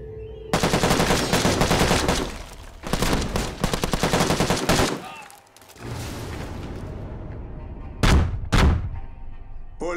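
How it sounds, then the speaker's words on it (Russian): Bursts of loud, rapid machine gun fire in a film, several sustained volleys separated by brief pauses, with a couple of sharp, isolated shots near the end and voices shouting between the bursts. "Пулемет!"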